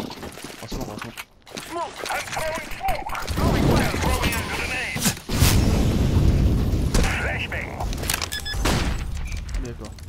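Smoke grenade thrown and bursting in Counter-Strike: Global Offensive, a loud muffled pop and hiss amid gunfire bursts and mechanical clatter, with players talking over it throughout.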